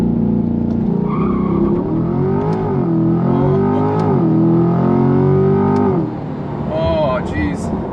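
A Chevrolet C8 Corvette accelerates hard from a standing launch, its loud engine climbing steadily through the gears with brief dips at each shift, then easing off as a person speaks over it.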